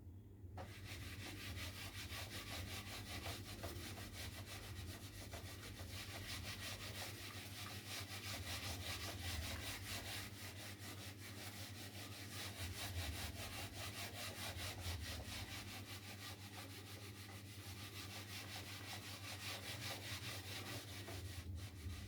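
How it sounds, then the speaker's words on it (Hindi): Rubbing out writing on a board during a class 8 maths lesson, a steady, continuous scratchy rubbing with fast back-and-forth strokes, close and fairly quiet, with no speech. "मैं अभी से रब कर रहा हूँ"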